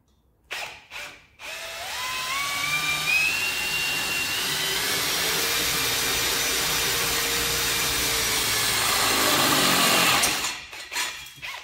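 An Ozito 18V 60Nm brushless hammer drill with a 12.5mm bit bores through galvanized mild steel. The loud, close motor whine rises as it spins up, holds steady for about eight seconds, then stops.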